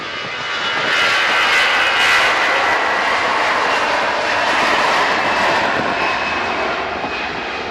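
Jet aircraft engines at Manchester Airport, a loud sustained roar that swells in over the first second and holds broadly steady, easing slightly toward the end, with no voices over it.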